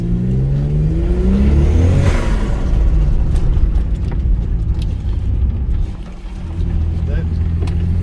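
A VR6 car fitted with a GT35 turbo accelerates hard with a loud, close, rising engine note, followed by sharp fluttering turbo chatter and clicks as the revs drop and climb again.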